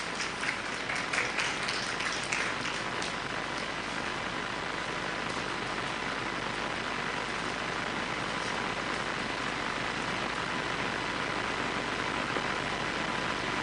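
Audience applause at an Indonesian national talk show event with the governor of Bangka Belitung, a steady, hiss-like roar of many hands that holds evenly for the whole stretch at a moderate distance.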